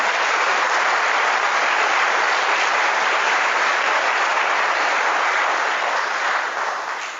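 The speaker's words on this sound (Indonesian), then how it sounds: "Tepuk tangan." A large crowd applauding loudly and steadily for several seconds, a dense wash of clapping that tapers slightly at the end.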